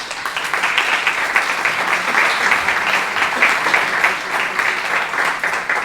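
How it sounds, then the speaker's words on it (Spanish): An audience breaks into steady, dense applause after a speaker's introduction at a talk, many hands clapping evenly for several seconds with no voices over it. "Le vamos a dar un aplauso."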